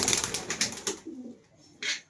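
A young male local pigeon, not yet paired, gives a short, low, near cooing call after a burst of rustling, flapping noise, with a brief sharp sound at the end.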